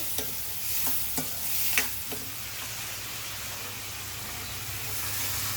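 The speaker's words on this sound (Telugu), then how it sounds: "ఆయిల్లో కరివేపాకు ఉల్లిపాయ పచ్చిమిర్చి వేసుకున్నానండి" Curry leaves, onion and green chillies sizzle in hot oil for a dry fish and brinjal curry, a steady hiss with a few scraping stirs near the start, fairly close and with no voices.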